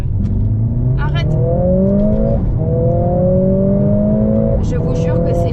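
A Mercedes A45S AMG with 421 hp cruises gently, its engine note rising steadily through the gears with brief dips at each shift, loud and continuous from inside the cabin while people talk over it.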